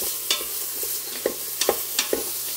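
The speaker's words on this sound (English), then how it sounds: "Give the onions a stir so they don't burn." Onions stirred with a utensil while sautéing in an Instant Pot, giving several short scraping scuffs at uneven intervals over a steady low sizzle, close and fairly quiet.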